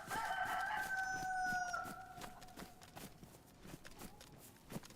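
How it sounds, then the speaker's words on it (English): A cockerel in the video game DayZ lets out a single drawn-out cock-a-doodle-doo at the start, fairly clear over a low ambient background with soft footstep-like thumps continuing after. "Did somebody startle that"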